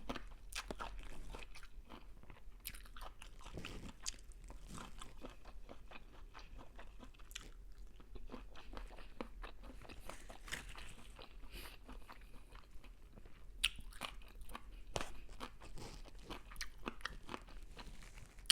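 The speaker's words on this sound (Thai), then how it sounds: "มะละกอแช่ช่อง แช่ช่องพักจ้ะ กรอบกรอบพี่น้องเอ้ย เย็นกรอบดีแท้" Biting and chewing crunchy chilled papaya, close and faint, with steady crisp crunches and munching repeating throughout and no talk.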